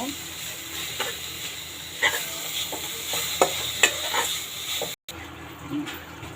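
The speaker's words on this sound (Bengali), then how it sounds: "আমি ভালো করে কষিয়ে নেব" Onions sauté and sizzle steadily in a pan with salt and spices, with a spoon scraping and stirring in soft bursts throughout and a brief cut near the end.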